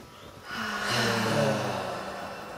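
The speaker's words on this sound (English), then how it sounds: "Big deep breath." A single slow, deep breath is drawn in and released during a guided tapping exercise, a soft airy rush that swells and fades with no talking over it.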